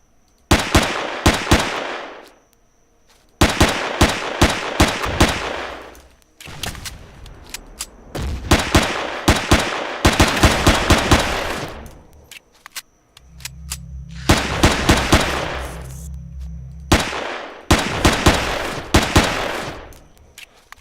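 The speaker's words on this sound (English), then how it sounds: "Pistol seems to work the best for these" Pistol fire aimed at attacking drones in Empyrion Galactic Survival, loud bursts of rapid shots in several separate volleys with short pauses between, plus a low droning hum midway.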